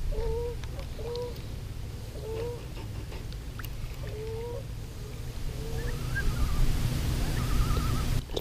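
Distant wavering loon calls drift over steady low rumble across open lake water, with a few long tremolo notes near the end.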